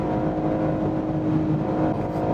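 Steady, muted cabin drone of a BMW M4 Competition coupe's longitudinal inline-six at high speed, engine hum blended with road and wind noise, even and continuous with no voices.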